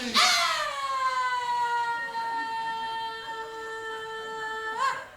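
A siren wails in one long sustained tone that holds steady for about five seconds, rising sharply at the start and swelling again near the end, loud and close with no talk over it.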